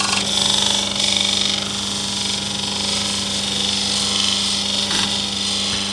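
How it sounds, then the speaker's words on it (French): A felt grinding wheel sharpens old scissors in a steady, loud, continuous whirring drone with a constant low hum, plus brief scraping changes as the blade is held against it. "Maintenant, je vais la passer sur la meule en feutre."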